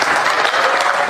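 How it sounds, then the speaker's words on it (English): Durham police officers clap together at an awards banquet, a loud, dense burst of applause with no voices rising above it. "Durham police applauding the service of one of their own, Corporal Rayshawn Taylor, at an awards banquet."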